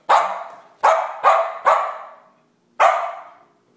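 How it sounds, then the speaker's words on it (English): A dog gives five loud, close barks, four in quick succession and a final one after a short pause, each ringing out in an echoing room. "No barking. No barking."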